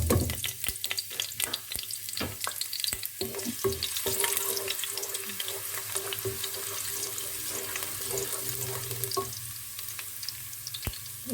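Garlic pieces drop into hot oil in a home kitchen and fry with a steady crackling sizzle, punctuated by sharp clicks and clatter of utensils, close and moderately loud.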